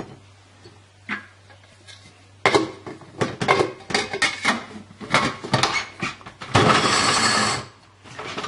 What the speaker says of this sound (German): Ich fange jetzt mit dem Parmesan an, weil der am schwersten zu hacken geht.